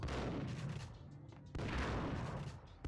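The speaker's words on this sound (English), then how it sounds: "this shotgun ain't cutting it" Heavy, booming shotgun blasts in the video game Max Payne, two dense, loud bursts back to back with rumbling tails filling the short stretch.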